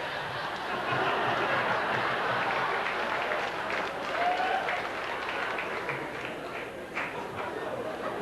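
Audience members at a comedy performance of celebrity impressions clap in a sustained round of applause, mixed with scattered chuckles and crowd murmur.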